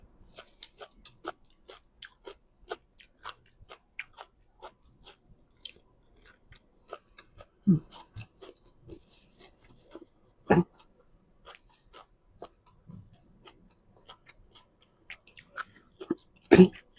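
Crunchy fresh vegetables, including bitter gourd, eaten with a canned fish chili dip: close, repeated crisp bites and chewing in an irregular rhythm, louder crunches breaking through now and then, with no talk.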